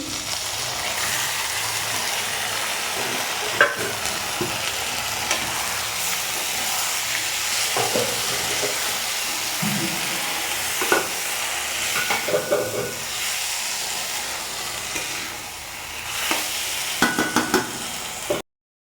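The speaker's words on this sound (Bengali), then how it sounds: "পাঁচ মিনিট মতো আমি ভালো করে কষিয়ে নিয়েছি" Khichuri ingredients sautéed and stirred in a pan, a steady sizzling hiss with intermittent scraping and clinking stirs, close and moderately loud throughout.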